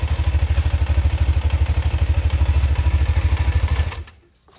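A BMW boxer airhead motorcycle engine idles warm at just over 1000 RPM, with a steady, close, even throbbing pulse. It runs alone for about four seconds, then cuts off into quiet.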